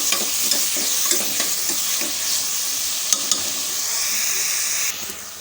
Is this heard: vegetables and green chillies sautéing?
yes